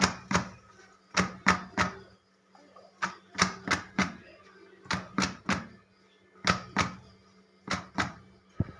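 Oiled hands beat freshly cooked homemade porota layers, giving sharp, close slaps that come in quick clusters of two or three with short pauses between them, over a faint steady hum.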